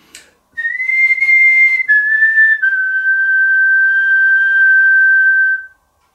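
A whistled melody performed while looking downward with poor posture, a clear solo tone that holds a few long notes, each stepping lower in pitch, with the final note sagging as it fades.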